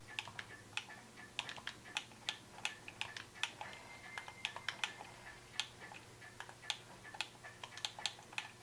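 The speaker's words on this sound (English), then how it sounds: "It's a very clicky noise, and it can get very annoying after a while" Clicky buttons on an Xbox Series X controller are pressed repeatedly in an irregular, quick rhythm of sharp close taps, with no voices.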